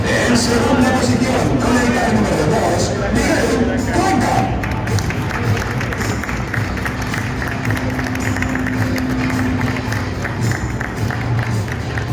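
A crowd at a karting championship prize ceremony gives the winner an ovation, with steady clapping and cheering mixed with a loud PA voice and a dense background of crowd noise.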